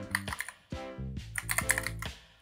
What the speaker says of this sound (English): click on the search button and type Roblox over here